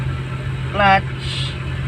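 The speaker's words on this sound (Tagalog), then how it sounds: "narinig nyo na naghihingalo yung makina" An idling manual-transmission car engine is struggling and close to stalling. It gives a steady low rumble with a brief rough, sputtering surge near the middle, close to the microphone.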